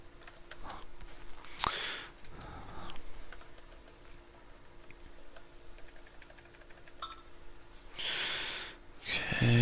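Scattered keyboard typing, light clicks in short bursts with pauses, fairly close and quiet, with a louder clatter near the end.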